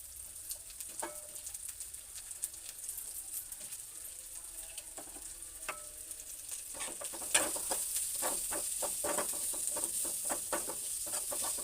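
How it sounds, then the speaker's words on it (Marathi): Onion tossed into oil where garlic has been roasting, giving a steady frying sizzle that grows louder near the end, with scattered clicks of stirring and no talking. "त्यानंतर हा कांदा टाकून घेऊ आपण"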